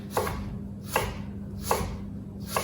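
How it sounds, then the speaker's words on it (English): A knife chops mushrooms on a cutting board for chili con carne, four evenly spaced, crisp thuds about three-quarters of a second apart, close and clear over a quiet kitchen hum. "so we're chopping 7 mushrooms in this case"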